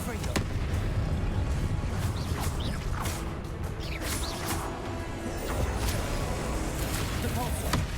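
Confringo blasting spells exploding during combat in Hogwarts Legacy, a run of sharp bursts and crashes over dense, continuous battle noise, loud throughout.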